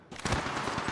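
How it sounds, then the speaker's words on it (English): Automatic weapon fire in the mobile shooter Apex Legends Mobile, a dense, close burst that starts abruptly and rattles on continuously for a second with no talking. "Shots fired, and they're hitting me."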